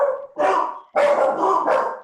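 A dog barks close by in a quick series of four loud, sharp barks with short gaps between them, alone with no talk.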